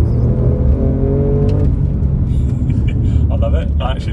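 Alfa Romeo pulling hard in third gear, a loud close engine roar rising steadily from inside the cabin with faint background clicks.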